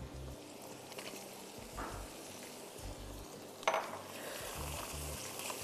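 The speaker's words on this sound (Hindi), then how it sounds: "तो इसमें हम चिकन डाल देंगे।" Chicken breast cubes go into melted butter and sautéed garlic in a pan, giving a soft sizzle with faint utensil clinks and a sharper scrape near the middle, quiet and without talk.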